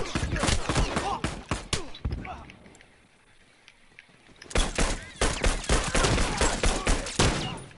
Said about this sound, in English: I shot him six times with my auto rifle